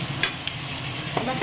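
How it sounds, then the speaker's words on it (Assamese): Tomato puree hits a hot pan and fries with a steady, close sizzle, broken by a few faint scraping stirs over about a second and a half. "বিলাহীৰ এয়া পিউৰিখিনি দি দিছোঁ"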